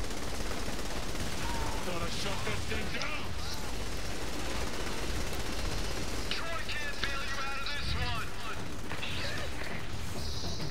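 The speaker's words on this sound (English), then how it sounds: "Unlimited ammo. Just shoot. Keep shooting." Dense, continuous gunfire in Saints Row: The Third with unlimited ammo, rapid shots and crashes layered with game noise and voices talking over the action throughout.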